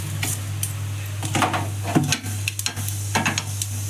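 Whole spices including green cardamom, bay leaf, cloves, black pepper and cumin sizzle in hot oil in a pot, a close steady frying hiss broken by stirring scrapes and clinks.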